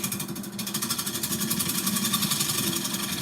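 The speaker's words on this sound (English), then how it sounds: "The only reason I'm using a scraper, much less chance of catching." Wood lathe spinning a bowl blank while a scraper cuts, giving a steady, fast-pulsing rumble and scraping whir, close and loud, with no talking.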